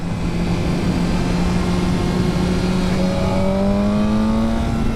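A BMW M1000R motorcycle pulls hard out of corners, its engine droning steadily with rising pitch sweeps as it accelerates, loud and continuous over rushing wind noise.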